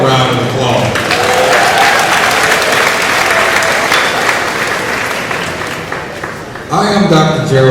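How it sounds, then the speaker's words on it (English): Loud, dense applause from a large crowd at a Mississippi Valley State University commencement, sustained for several seconds before fading, then a speaker's voice takes over. "Let's start off with a round of applause."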